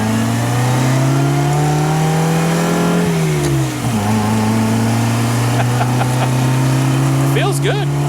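A 1961 Austin Healey Sprite accelerating on the road, its engine note rising in pitch, dipping at a gear change around the middle, then climbing again; loud and steady from inside the car, with brief extra noises near the end.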